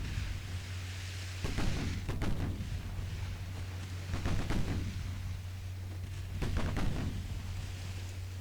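Battleship guns fire in a naval battle off Norway in a WWII-era naval strategy game, sounding as three spaced heavy booming salvos with rumbling tails over a steady low engine hum.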